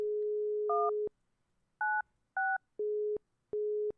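Phone keypad tones in an adventure game: a steady dial tone is cut by a few two-pitch DTMF beeps, then several separate even tone pulses follow with gaps of silence between them.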